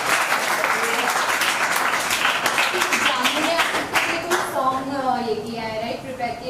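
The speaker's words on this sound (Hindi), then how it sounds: "इनके लिए जोरदार तालियां बजाएं" An audience at a Smile Foundation children's event claps loudly for a child, dense sustained applause that fades as a voice speaks over it toward the end.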